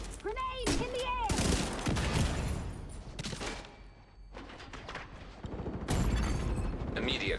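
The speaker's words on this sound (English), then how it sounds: "Turret, could you fire?" A video game turret fires in rapid bursts of loud mechanical shots, dense and close, with pauses and creaking metallic noises between volleys.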